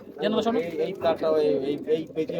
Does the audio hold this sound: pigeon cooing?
yes